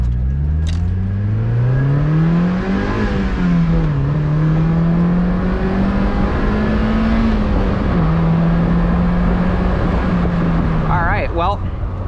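A stock Mazda NB Miata drives on the road, its engine note rising and falling steadily through gear changes for the whole stretch, close and loud from inside the car.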